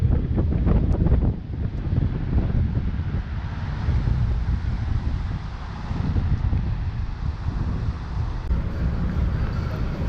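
Strong wind buffets the microphone along a seaside tourist strip in Ao Nang, Krabi, Thailand, a continuous loud roaring rumble with gusts that rise and fall throughout.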